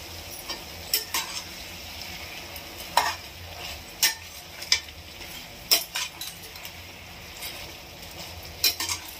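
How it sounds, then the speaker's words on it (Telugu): Medium-sized chicken pieces frying in a pan for green masala curry, a steady low sizzle broken by repeated sharp scrapes and clinks of a stirring spoon against the metal, close and without talk. "చూడండి ఇలా వేగుతుంది."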